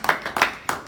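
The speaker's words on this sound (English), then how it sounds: "So let's give ourselves a round of applause." A few scattered hand claps from an audience at a live product demonstration, three sharp separate bursts close together, brief and fairly quiet.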